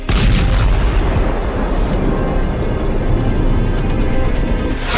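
A missile strike hits a building, a loud, sustained blast rumble with dense low-end roar that stays heavy and continuous throughout, without voices.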